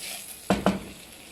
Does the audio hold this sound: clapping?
no